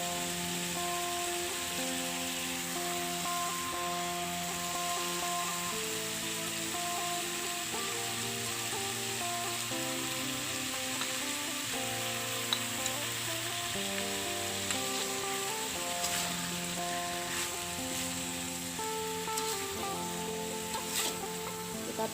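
Green beans being stir-fried in a pan with seasoning powder and salt, a steady sizzle running continuously underneath background music, with no talking heard.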